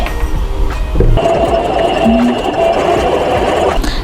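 Sewing machine stitching a square around a bag strap, a steady close whirring run with a brief stop and restart early on.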